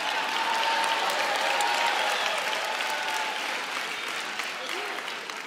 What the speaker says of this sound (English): I'm not sure you should clap for that.